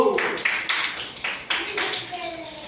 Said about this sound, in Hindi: दीदी के लिए ताली बजाओ।